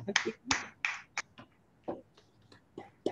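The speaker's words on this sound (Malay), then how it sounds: "Okay tepukan tepukan" A series of sharp, dry snaps or claps, irregularly spaced, fairly quiet and close, with no talking.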